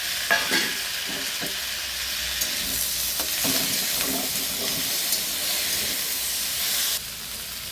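Tomatoes added to frying tengra fish crackle and sizzle loudly in a pan, with a steady hiss and a few stirring scrapes, close and continuous.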